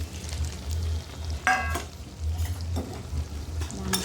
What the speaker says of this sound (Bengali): মাংস আর আলু একসঙ্গে ভালো করে কষিয়ে নিলাম